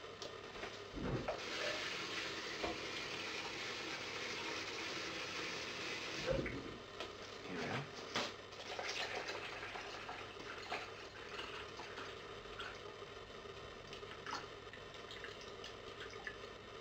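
Water running and being poured while making homemade wine, a steady, close, continuous wash of flowing liquid with a few brief splashes and knocks, no talking.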